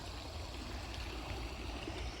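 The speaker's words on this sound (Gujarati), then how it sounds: "1 મોટરનું પાણી જાય છે." Water gushes from a pump motor outlet on a farm where cows and buffaloes gather, a steady, even rush that runs unbroken and fairly close, with no voices over it.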